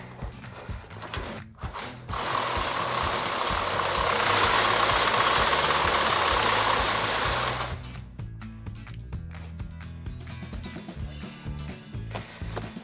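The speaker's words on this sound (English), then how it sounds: "Sawzall." A Sawzall reciprocating saw cuts into a plastic IBC tote, a loud buzzing rasp that swells for several seconds and then drops away, with quieter rattling machine noise before and after.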